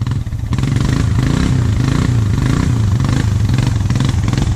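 A four-wheeler ATV engine revs hard at full throttle in the woods, a loud, steady, close droning roar with a wavering pitch that holds almost without a break.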